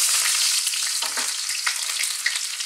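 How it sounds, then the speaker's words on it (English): Onions dropped into hot oil in a wok, a loud close hiss of frying with a few brief stirring knocks, heard alone over a couple of seconds. "We're going to start off by dropping in some onions. It's going to be quite noisy, nice and hot in the wok."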